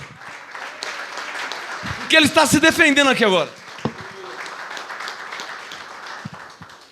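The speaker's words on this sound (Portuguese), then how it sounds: "Uma salva de palmas ao Senhor" Church congregation clapping in a burst for the Lord during a sermon, a brief loud patch of applause in the middle, with a preacher speaking before and after it.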